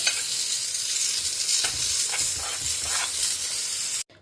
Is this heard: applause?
no